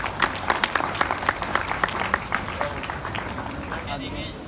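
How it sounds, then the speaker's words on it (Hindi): A class claps together in a steady burst of individual hand claps, fairly close and moderately loud, tapering off toward the end. "ताली बजा दो"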